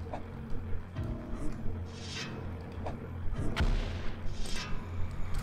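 Gunfire in the video game Rework The Dead: Evil: a few heavy booming shots at irregular intervals, loud and close, each with a short rumbling tail, over a constant low game drone.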